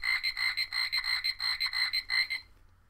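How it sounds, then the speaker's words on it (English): A five-dollar Walmart frog puppet toy from the baby section plays an electronic rendition of Old MacDonald Had a Farm: a steady run of croaky, pulsing notes, close and clear with no talk, stopping after about two and a half seconds. "he sings like Old MacDonald Had a Farm"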